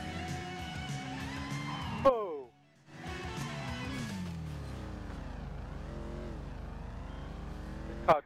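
A car engine in GTA V, fitted with off-road tires, revs and accelerates in rising and falling sweeps, cutting out briefly before roaring back with sharp bursts at the edges. People talk over it.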